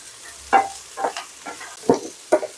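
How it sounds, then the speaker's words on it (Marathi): Tomatoes cooking down in a pan, with a few separate scraping, mashing strokes standing out against a low sizzle; the sound stays fairly quiet and close throughout. "आपण टोमॅटो चांगले मॅश होईपर्यंत असे म्हणजे टोमॅटो छान शिजवून घेणार आहोत"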